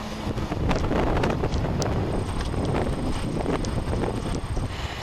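Steady, heavy wind buffets the microphone trackside by a railway line with a loud, constant roar and rumble throughout, with no voices.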